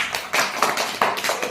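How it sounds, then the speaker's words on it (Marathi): Young children in a classroom clap for a classmate, a short, uneven burst of loud, close claps with a few sharp strikes standing out. "ह्याच्यासाठी टाळ्या वाजवा एकदा."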